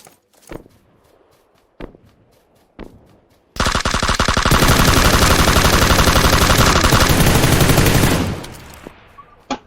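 Sustained automatic gunfire from behind rattles for several seconds in PUBG Lite on the Sanhok map, loud and close. A few scattered thumps and footsteps come before it, and it trails off into quiet.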